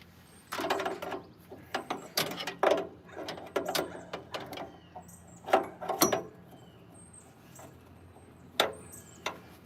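A wrench tightens a compression fitting on the original fuel pump of a 1929 Buick, giving close irregular metallic clicks, ratcheting taps and scrapes in short uneven bursts against a quiet background.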